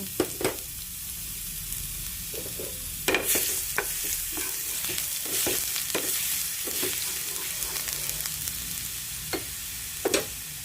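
Garlic sizzling and crackling in hot oil in a pan, a steady frying hiss punctuated by sharp pops and the scrape of a stirring utensil.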